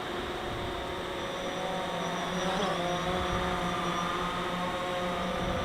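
A DJI Phantom 4 drone at full throttle gives a loud, steady propeller whine and hum with stable tonal buzzing and a slight pitch shift midway, no talk.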